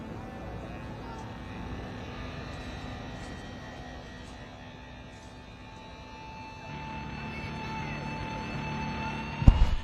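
An F-18 Super Hornet at a military base airshow demonstration, heard as a steady distant jet roar that swells toward the end, with a sharp thump at the very end.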